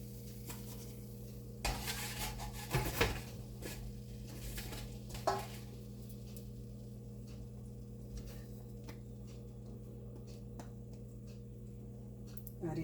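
Khasta kachori made with moong dal fries in hot oil, a soft continuous sizzle under a steady hum, broken by a few louder clatters of a utensil in the pan.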